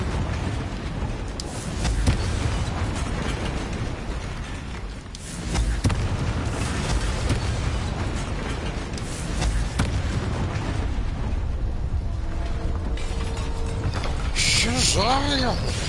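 In Hogwarts Legacy, the Confringo spell goes off as several booming bursts spread across a dense bed of game effects and music, with a person talking at points.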